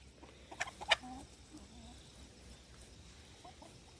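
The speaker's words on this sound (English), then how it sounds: "One of my chickens is sneezing." A white chicken sneezes with a couple of sharp, sudden bursts near the start, close and distinct, followed by soft clucks and quiet farmyard background.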